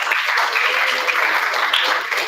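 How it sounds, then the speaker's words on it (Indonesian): Dense, loud applause from a school event audience at SMA Negeri 4 Bogor, continuous clapping filling the whole moment without a break. "Oke, boleh tepuk tangannya, Kak."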